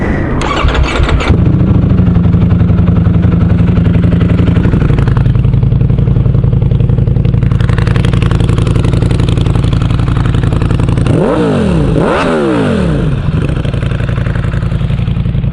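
A motorcycle engine cranks and catches, settles into a loud, steady idle close by, then revs sharply twice near the end, with no talking.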